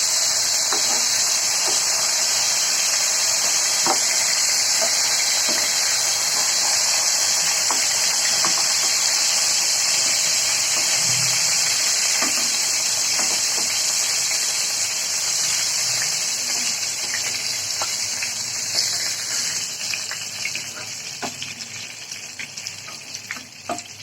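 Pointed gourd frying in oil in a covered pan over low heat gives a steady, close hiss with faint crackles that holds through the whole stretch and eases slightly near the end.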